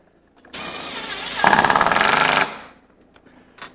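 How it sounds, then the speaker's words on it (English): A power tool tightens a snowmobile axle, a close, loud buzzing whir that starts abruptly, rises into a harder rattling hammer for about a second, then winds down and stops. "we want to tighten up our axle again"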